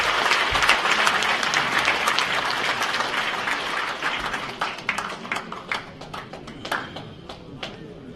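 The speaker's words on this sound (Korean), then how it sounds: "다시 한번 박예리 명창과 김기문 명골님께 큰 격려의 박수" Audience applause at a police veterans' association anniversary ceremony in a concert hall, a dense wash of many hands that thins out into scattered individual claps as it fades.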